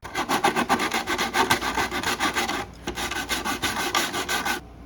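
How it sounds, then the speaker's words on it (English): An automotive sanding block with 180-grit paper rasps back and forth over a Lexan RC car body in quick, rhythmic strokes, loud and close, with a short pause midway. "So this is an automotive sanding block with 180."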